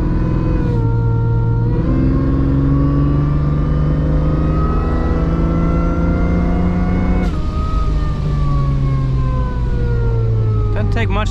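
Supercharged Jeep ZJ with an intercooler, accelerating hard with a loud whining engine whose pitch rises through each gear and drops sharply at two shift points, close and continuous.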